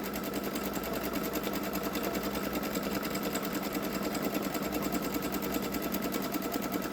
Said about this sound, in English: that's doing the outline with a zigzag stitch